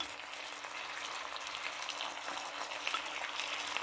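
Thai noodles with shrimp sizzle in a hot pan, a steady bright crackling hiss with scattered pops, close and continuous with no talking.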